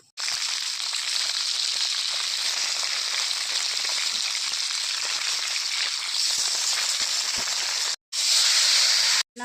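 Bamboo leaf fish fries in mustard oil in a pan, giving a steady, loud, dense sizzle and hiss that runs almost unbroken, with a brief cut and a louder burst near the end.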